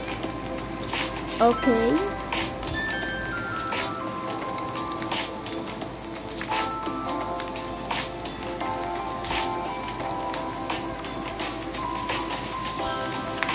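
Ham fries in a pan with a soft, steady sizzle and crackle under a person's brief spoken remark, with faint kitchen clatter now and then.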